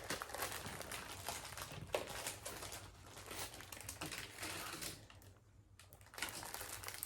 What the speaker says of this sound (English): Sorry for all the crinkling.